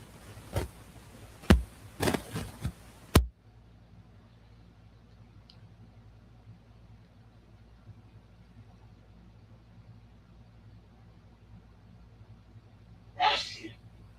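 A single sharp sneeze bursts out near the end of a long, quiet indoor stretch, preceded earlier by a few loud knocks and clicks close to the microphone.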